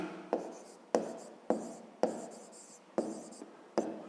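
A pen or pencil writes on paper during a fifth-grade maths lesson, tapping in six sharp strokes at an even pace, quiet and near.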